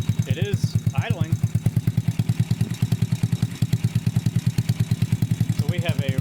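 A Grom clone small motorcycle engine idles on its first start after a valve adjustment, with a steady, rapid putter, loud and close; a person speaks briefly over it a couple of times.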